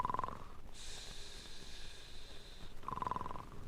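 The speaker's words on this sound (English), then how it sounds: "Somebody snores." A person snoring: a nasal snort, then a long rasping breath, then another snort, close and fairly quiet in a calm room.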